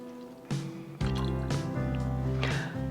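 Cointreau orange liqueur poured into a glass for a margarita, a close, steady liquid pour with soft squishy drips, starting after a brief pause and continuing to the end.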